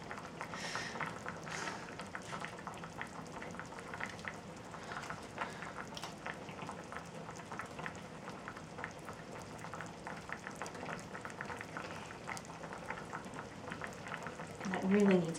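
Finnish sausage soup (siskonmakkarakeitto) boiling in a pot, a faint steady bubbling and simmering hiss, close but quiet, with a small clink near the end.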